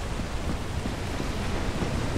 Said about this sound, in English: Thunder and lightning makes storms even better.